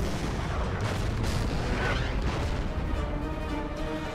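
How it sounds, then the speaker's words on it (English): Artillery fire strikes infantry in the wargame Order of Battle: Endsieg, a dense continuous rumble of booming blasts and rolling explosions that stays steady and loud throughout, with no voices over it. "Now, down here, artillery will hit the infantry."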